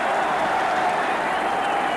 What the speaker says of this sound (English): Congratulations from Jack Nicklaus, the crowd rising to their feet.